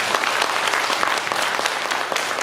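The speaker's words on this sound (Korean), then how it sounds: "우리 박수 한번 해주십시오." A church congregation at a worship service applauds with dense, continuous clapping at a steady level throughout, a full room of hands with no voices on top.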